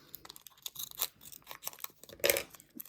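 Scissors snip through the corner of a small plastic bag of diamond painting beads, a few close crinkly cuts and rustles with one sharper crunch near the end, no voices.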